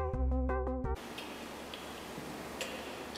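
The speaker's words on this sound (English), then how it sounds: "Yeah, that could be like a tock-tock." Tock-tock sound effect in a song remix: a short burst of repeated percussive clock-like knocks with a low thud, then quiet room noise with a few faint clicks.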